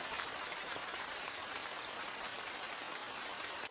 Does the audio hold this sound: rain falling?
yes